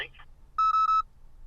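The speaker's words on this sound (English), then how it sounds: "That's a perfect time for the phone to die" A phone emits three short electronic beeps in steady rhythm as its battery dies, loud and close after a brief bit of speech, with a low background hum.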